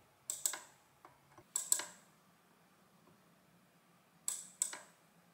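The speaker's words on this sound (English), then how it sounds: "you just press this big red button, and that pushes the platen down onto the type underneath here" Saldorita adding machine printing as its big red button presses the platen down onto the type, giving a few sharp mechanical clacks in small pairs, spaced apart, close and fairly quiet with no talk.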